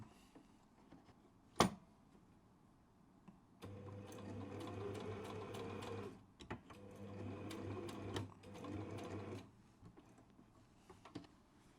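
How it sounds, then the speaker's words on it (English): A sewing machine back-stitches a kimono jacket in two steady whirring runs separated by a short pause, close and alone, with a sharp click before it starts and light ticks after. "we do a back stitch as well because this is all about stabilizing this little area"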